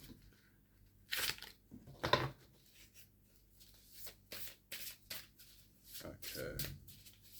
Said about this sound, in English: that shuffling's really relaxing